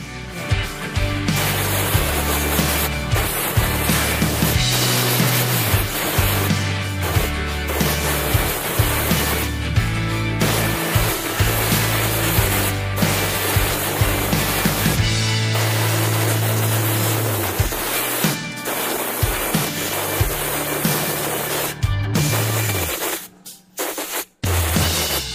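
Compressed air blasting over Honda Scoopy engine parts freshly rinsed in petrol, a loud, steady hiss running almost continuously with brief dips and a short pause near the end.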